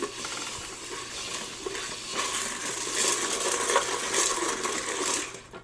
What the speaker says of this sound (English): I'm hearing it sizzle.